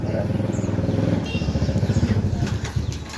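A trail motorcycle at an off-road trabas event idles and revs nearby with a rough, throbbing engine note, loud and continuous throughout.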